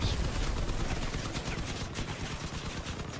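Vehicle-mounted guns firing in the Crossout vehicular combat game, a dense continuous barrage of shots and rumble running loud and steady throughout with no pauses.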